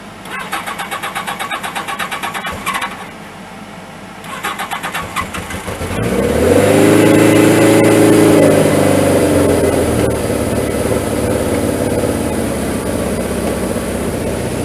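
A Suzuki GS1000 motorcycle, choke on after sitting for over a week with the baffle out, cranks with an electric starter whir, catches and settles into a loud, steady, rumbling idle.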